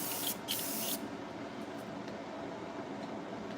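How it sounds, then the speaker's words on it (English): Cool Care disinfectant spray is blasted onto hair clippers at a barber's station in one close, loud hissing burst of about a second, then a steady low background hum with no talking. "Spray down your clippers with that cool care."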